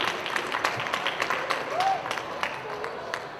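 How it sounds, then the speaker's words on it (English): Moderate applause for a guest from Occupy Wall Street at a campus event, a steady patter of clapping from a smallish audience, fairly even in level, with murmured voices mixed in. "Let's give him a big round of applause to Ed Needham."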